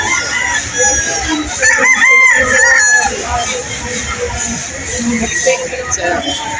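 Gamefowl roosters crow loudly and repeatedly at a fowl show, with clucking birds and a babble of voices throughout.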